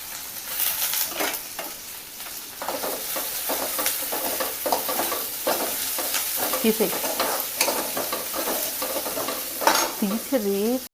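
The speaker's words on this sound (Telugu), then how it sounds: "ఆయిల్ బాగా వేడెక్కిన తర్వాత మనం ఈ పచ్చి నెత్తలు అందులో వేసుకొని బాగా ఫ్రై చేసుకోవాలి." Raw dried fish sizzles in well-heated oil as a utensil stirs and scrapes the pan, a close, continuous frying crackle punctuated by repeated clinks and scrapes throughout.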